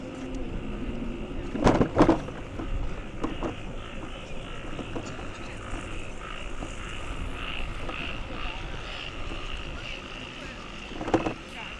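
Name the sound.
frogs croaking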